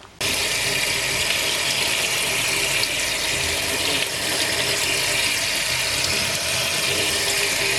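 Tap water runs steadily into a sink, rinsing boiled wheat in a colander, a loud continuous close-up rush that starts abruptly and holds with little change throughout.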